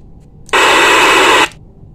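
A handheld two-way radio (HT, Mag One) gives a single loud burst of static hiss lasting about a second, with quiet background before and after.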